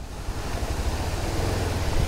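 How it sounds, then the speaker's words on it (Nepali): Rainwater runs across a road on the Kathmandu to Nuwakot fast track in wet weather, making a steady, loud broadband rush with a low rumble that holds throughout, with no voices. "ए यहाँ त पानी त रोडबाटै बगाइदिएर रहेछ नि त सर"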